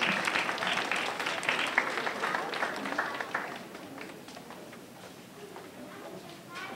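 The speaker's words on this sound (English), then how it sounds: "let's give them another round of applause" An audience at a star award recognition reception claps loudly at first, then thins and fades into a quieter murmur of the room after a few seconds.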